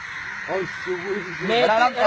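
A crow caws a few times in quick succession, fairly close, over faint background noise.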